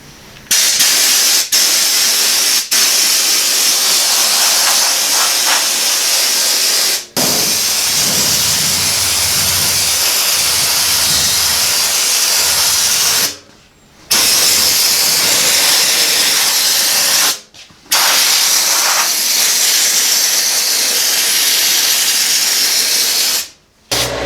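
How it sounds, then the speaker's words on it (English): Long, loud bursts of aerosol Woolwax lanolin undercoating hiss continuously onto a vehicle gas tank, broken by a few brief pauses between passes, close to the microphone with no talking. "let's just go ahead and see what it looks like spraying it on the top of this gas tank"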